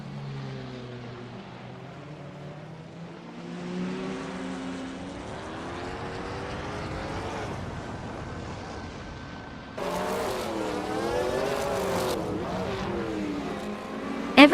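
Group 5 race cars roar around Brands Hatch GP in a racing video game, engines whining up and down in pitch as cars close in and pass, with a sharper, louder surge of revving near the end.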